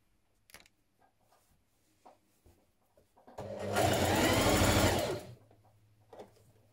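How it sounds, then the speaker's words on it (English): A sewing machine stitches a dart in fabric for a pullover dress, one steady burst of rapid mechanical whirring lasting under two seconds, close and loud, framed by quiet handling clicks. "We're going to stitch it at a gradual angle, a gradual V."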